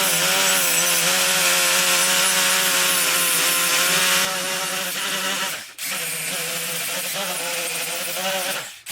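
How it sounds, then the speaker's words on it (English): A small hand tool scrapes and cleans the surfaces of an engine header in loud, continuous, rasping strokes, easing slightly partway through and broken by two brief pauses. "get his little tool here and clean up the surfaces"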